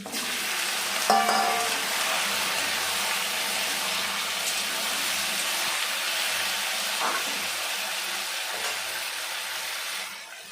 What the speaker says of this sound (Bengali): পেঁয়াজটা আমি হালকা ভেজে নিয়েছি এখন দিয়ে দেবো কেটে ধুয়ে রাখা গাটি কচু আর একটা আলু